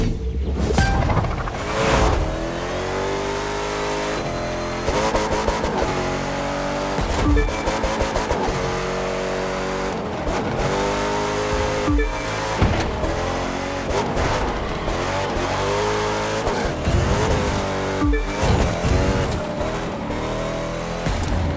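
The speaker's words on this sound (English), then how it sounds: "it's time to switch to touring cars" Touring cars race along a highway in The Crew 2, engines revving and shifting in repeated rising surges, with tire squeal and passing cars, loud and continuous.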